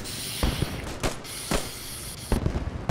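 Gunfire rings out overhead in the World War II shooter Post Scriptum: about five sharp, loud bangs spaced irregularly over a steady rumbling battlefield backdrop, with no talking.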